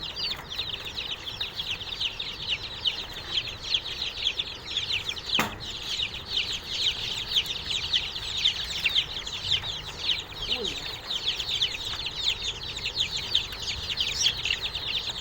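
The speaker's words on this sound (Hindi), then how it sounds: "20-25 दिन के चूजे हैं। आप देखें इनकी लड़ाई।" Asil chicks about 20-25 days old fighting, giving a continuous stream of close, shrill peeping and cheeping, with the odd soft thump.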